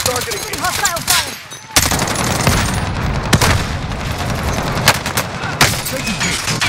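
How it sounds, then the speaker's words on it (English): Hostile gunfire in Call of Duty Warzone on PC, dense rapid shots and bursts that run almost the whole time, loud and close, with sharper heavy cracks standing out and faint talk under the firing. "They're targeting me. Hostile fire."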